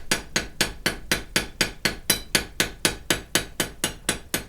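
A hammer strikes hot steel with light, quick blows while twisting a wrench at the forge: a steady, even run of about fifteen sharp, ringing metallic hits, close and clear, with no voices.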